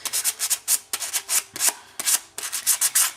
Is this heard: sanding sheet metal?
yes